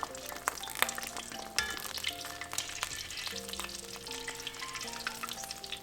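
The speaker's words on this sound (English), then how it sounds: "You can see a light sizzle, which is fine." Steady crackling sizzle of sesame balls frying in hot oil, with occasional clinks and scrapes of stirring.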